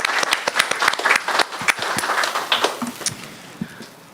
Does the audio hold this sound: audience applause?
yes